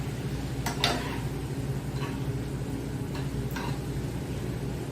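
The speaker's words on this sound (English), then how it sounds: "I'm going to give that a really nice mix" A spoon stirs a homemade eggplant casserole sauce, seasoned with Maggi Nutrissimo, in a pan. A few sharp scraping clicks sound against a steady low background.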